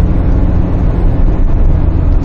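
A 2006 Hyundai Tucson engine pulling hard uphill under full throttle, a loud, dense, steady drone heard from inside the cabin with no speech.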